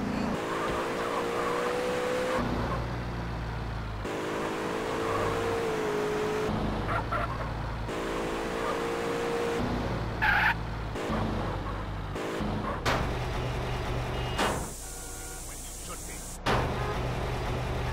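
Car engine in GTA San Andreas droning steadily with gear-shift steps and brief tire squeals, a continuous loud motor hum throughout with occasional clunks and a sharp burst near the end.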